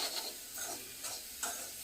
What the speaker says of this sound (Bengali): সুজিটা এতে ঢেলে দিলাম, খুব নাড়তে হবে ভালো করে।